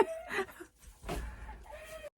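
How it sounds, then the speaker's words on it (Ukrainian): Chickens cluck and a rooster gives a short crow nearby, scattered farmyard calls with brief pauses between them. "кури кукарікають, петухи співають"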